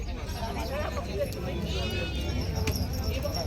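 Goats and young goat kids of a local village breed bleat at a weekly livestock market in Vasmat, Hingoli, with several quavering calls over a steady crowd murmur while someone speaks close by.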